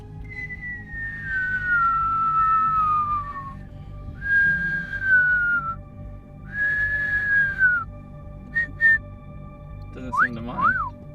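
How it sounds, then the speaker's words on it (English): A person whistles a few long sliding tones in separate phrases outdoors at night, then a couple of short chirps and a quick warbling trill, moderately loud over a low background hum. "Whistling."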